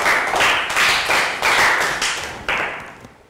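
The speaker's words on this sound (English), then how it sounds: "Round of applause." A primary school class gives a round of applause during a health education fitness lesson, a series of loud rhythmic group claps about every half second, tapering off at the end.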